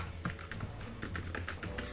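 Someone types steadily on a computer keyboard while playing Minecraft. The keys click and tap quickly and unevenly at close range, with a low hum underneath and no speech.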